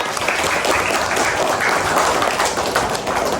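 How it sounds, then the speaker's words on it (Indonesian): Classroom applause for a student named Eka after she finishes making tea, a small group of children clapping steadily and close by for a few seconds. "tepuk tangannya untuk Eka"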